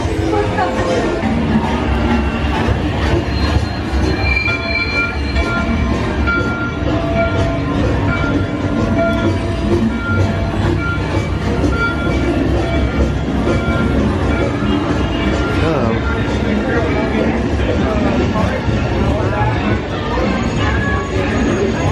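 Train ride at Mickey & Minnie's Runaway Railway theme park attraction, a steady, loud rolling rumble lasting throughout, with crowd chatter and voices mixed in.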